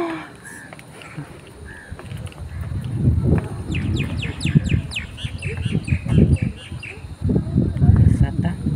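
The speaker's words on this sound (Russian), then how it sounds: "Птички, птички." Birds chirp and tweet in quick bursts over outdoor rustling and noise at a resort in Passikudah, Sri Lanka, fairly close, with a crow-like call mixed in.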